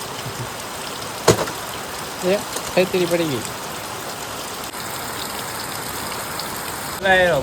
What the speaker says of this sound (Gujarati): હવે હવે વધતો જાય વરસાદ